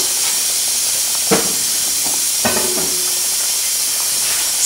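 Steady broadband hiss of water boiling in a pot, with a couple of brief clinks or bumps partway through; no one speaks.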